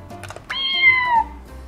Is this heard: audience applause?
no